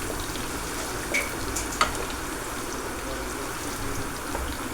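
Mustard seeds and chana dal frying in oil while being stirred, a soft, steady sizzle with a couple of faint clicks, quiet and close.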